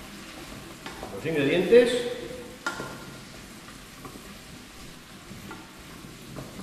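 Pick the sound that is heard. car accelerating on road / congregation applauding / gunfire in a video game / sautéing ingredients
sautéing ingredients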